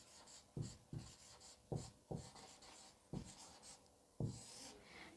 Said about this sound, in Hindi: अधीनस्थ इसको ठीक से लिख दे रही हूँ एक बार